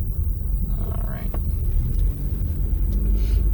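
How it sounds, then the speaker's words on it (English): A FedEx delivery truck drives close behind, its steady low engine rumble and road noise filling the scene while people talk in the vehicle ahead. "It's a FedEx truck behind us."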